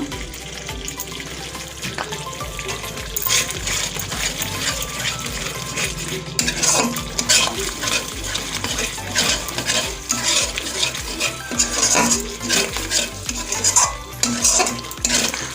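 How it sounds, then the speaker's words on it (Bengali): Spice paste being stir-fried for a vegetarian cauliflower roast, a spatula scraping and stirring steadily in the pan with clinks of utensil on metal and a constant sizzle throughout, fairly close and loud, with no talk. "মশলা কষানো হচ্ছে আমার এবার আমি সেই ভাজা মশলাটা দেব"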